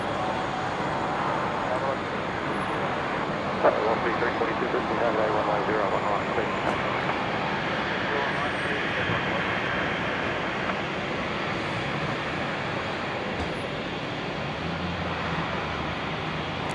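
An airliner landing at Brisbane Airport on runway 01 left sends a steady, loud, broadband jet roar that holds for the whole stretch without fading.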